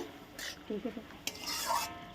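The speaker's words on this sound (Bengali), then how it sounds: "এবারে একটু নাড়া দিয়ে" A utensil stirs pre-fried small fish in a pot of simmering water with vegetable stalks, giving a few soft scraping strokes and light clinks against the pot over a low bubbling background.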